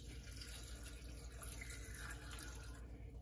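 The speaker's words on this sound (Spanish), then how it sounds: "Voy a calcular el agua para que lo cubra todo." Water pours steadily into a cooking pot over the ingredients, raisins among them, a faint continuous splashing trickle with no voices.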